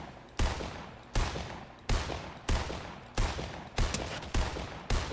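A gold LMG in Fortnite fires loud, sharp gunshots in repeated short bursts, roughly eight cracks spread over five seconds, each with a decaying tail, and no talking.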